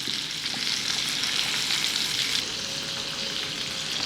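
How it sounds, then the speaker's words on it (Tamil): Shrimp fries in hot oil for a Tamil-style shrimp gravy. A dense, steady sizzle with soft crackling carries on throughout at moderate volume, with no speech. "ஒரு 5 நிமிஷம் பொரிக்க விடணும்."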